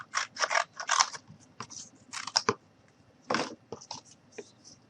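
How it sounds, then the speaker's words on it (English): Scissors cutting a small piece off a piece of cardboard: a handful of close, crisp snipping and crunching bursts in irregular succession, with short pauses between cuts. "And then I'm going to go ahead and just cut off a small piece."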